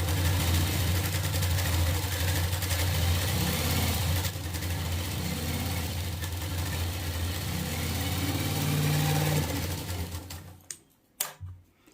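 A sewing machine running steadily through fabric during a beginner stitching class, a close, even mechanical whir with rapid needle chatter that stops near the end, followed by a few sharp knocks.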